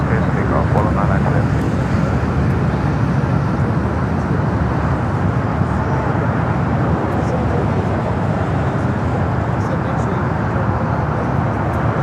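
A jet airliner in old Southern Air titles taxis at LAX toward runway 25 right, producing a loud, continuous, broadband engine roar that holds steady throughout, with faint voices mixed in.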